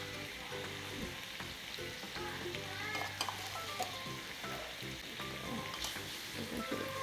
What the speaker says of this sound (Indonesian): aduk kita tumis dia sampai dia punya bumbunya masak